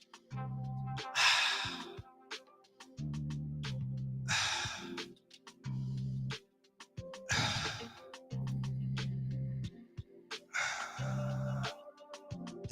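During a group laughter exercise, several deep, audible breaths are drawn in and let out in a repeating rhythm, close and fairly loud, alternating with steady low vocal tones between the breaths.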